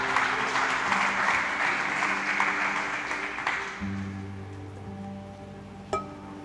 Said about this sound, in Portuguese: Aplaude, fica de pé.